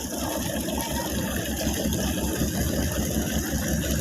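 A sand-carrying boat's engine running in a steady, loud low throb with a rapid regular pulsing, heard alone over faint water.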